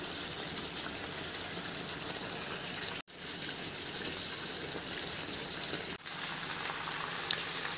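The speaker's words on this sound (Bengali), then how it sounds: "এবার ভালো করে কষিয়ে নেব" Chicken and potato pieces fry in spices in a pan with a steady, loud, close sizzle that runs throughout, broken by two brief dips where the food is turned or stirred.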